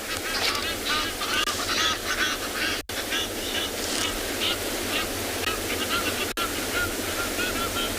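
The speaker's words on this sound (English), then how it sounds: "Another Egyptian geese couple's coming in." Egyptian geese calling as a pair flies in on a South African morning safari, repeated raspy honks layered over steady wind or surf-like noise, fairly loud and continuous with no talk.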